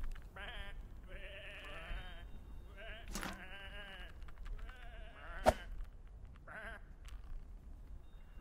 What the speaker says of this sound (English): these are just sheep